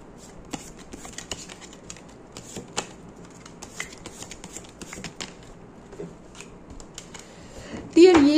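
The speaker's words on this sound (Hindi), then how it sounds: "इसके लिए एक कार्ड और निकालना चाहूंगी।" Tarot cards are shuffled and handled up close, with rapid papery riffles, flicks and taps throughout and a brief burst of voice near the end.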